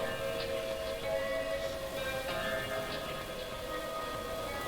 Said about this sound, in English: Are those tornado sirens?